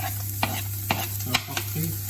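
Onion stirred in hot oil for a moussaka, a steady sizzle broken by four sharp spoon-on-pan scrapes, close and alone with no voices.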